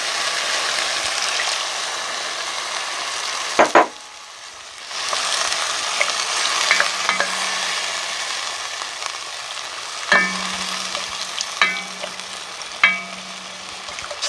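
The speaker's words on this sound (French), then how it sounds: "À ce moment-là, on ajoute le bouillon qu'on a préparé." Chili con carne being stirred in a pot after broth is added, a steady simmering sizzle with spoon scrapes and a few clinks against the pan, close and continuous with no talking.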